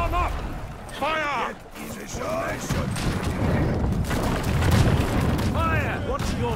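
A unit's musket volley in the video game Conqueror's Blade, booming and crackling shots over a busy battlefield while voices shout commands throughout.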